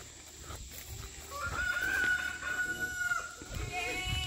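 Farm chickens crowd in at feeding time on a small homestead. A rooster lets out one drawn-out crow amid intermittent clucking over a constant outdoor background hiss.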